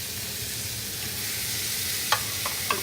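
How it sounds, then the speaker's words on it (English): Steaks sear in a hot pan with a steady, crackling sizzle, and a few sharp pops or utensil clicks come near the end. "you hear that sizzle? That's what I'm talking about."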